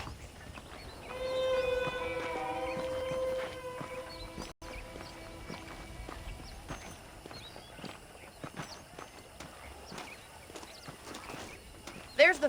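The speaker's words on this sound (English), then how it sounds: "The horses are saddled up over here." Video game horse hooves clop along at a steady walking pace, with soft footfalls and a faint tonal hum early on, moderately close and fairly quiet, from Red Dead Redemption.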